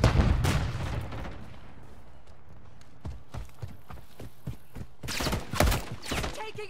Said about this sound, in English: Incoming frag! Frag out! Throwing a stun grenade!